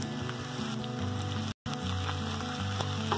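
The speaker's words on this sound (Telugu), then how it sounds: "బాగా ఫ్రై చేస్తున్నాను." Green chillies frying in a pan with oil, a close, crackling sizzle throughout with an instant's dropout in the middle, alongside a low background hum.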